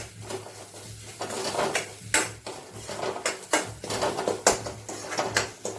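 Fish and spinach curry stirred in a pan, metal utensil clinking and scraping against the cookware in an irregular rhythm of close, clattering strokes with no talking.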